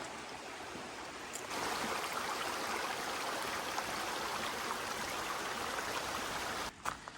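Steady rushing of a creek flowing nearby, a continuous broadband wash of water with no voices, briefly interrupted near the end by a soft knock.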